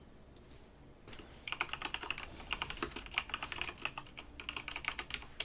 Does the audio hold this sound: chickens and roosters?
no